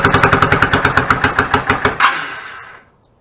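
A 1999 Yamaha VStar 650 Classic motorcycle engine with a clogged pilot jet, running on choke, thumps in a loud, rapid, even rhythm close by for about two seconds before cutting out and fading to quiet.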